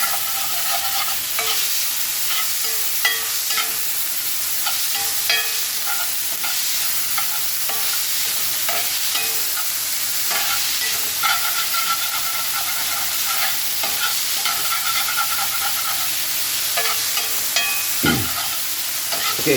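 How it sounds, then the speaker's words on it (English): A pot of Mexican pozole on the stove with salted ingredients being mashed in the pan, making a steady, close frying sizzle and hiss with scraping and stirring throughout and no talk. "And then hit this with a little salt. Alright, mash it in here."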